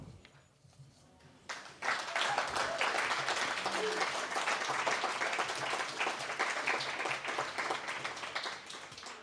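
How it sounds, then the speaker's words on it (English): An audience at a poetry reading in Flagstaff breaks into applause after a poem. A quiet pause is followed by sudden, sustained, fairly loud clapping from a room full of people. "Is it like a Flagstaff thing that you clap after every poem?"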